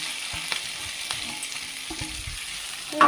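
Sliced okra frying in a pan with salt for a Kerala stir-fry, a soft steady sizzle with light scraping stirs scattered across it, quiet and close, ending with a brief louder clatter.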